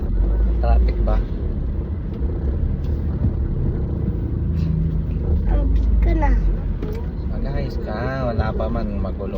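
Dense road traffic with cars and buses rumbling steadily nearby, loud and continuous throughout, with children and adults talking over it.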